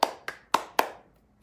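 Four sharp hand claps ring out alone at a steady, unhurried pace, each one crisp and close with a short decay before the next.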